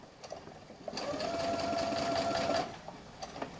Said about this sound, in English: we're going to sew at a 1/4 seam allowance all the way to about 1/4 of an inch from the corner